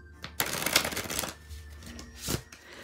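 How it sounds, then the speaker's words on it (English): Oracle cards riffle-shuffled close by, a quick flurry of fluttering snaps followed by a softer bridge and a final short riffle. "I have never shuffled a deck on here"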